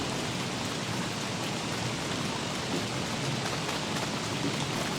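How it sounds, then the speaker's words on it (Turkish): Steady video-game rain in Don't Starve hisses evenly and without pause, a constant dense patter with no voices. "Yine yağmurda ciddi manada ıslandık."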